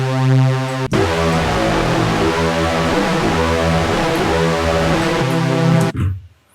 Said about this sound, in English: when you turn on the unison, you'll have more voices playing